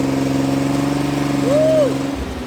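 A restored lowrider car's engine runs loud and close in a steady, throbbing drone, with a brief rising-and-falling whoop near the end.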